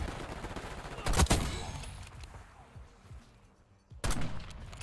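Rapid automatic gunfire in Black Ops 6 on Nuketown, a loud close burst near the start and another at the end, with quieter game sounds in between.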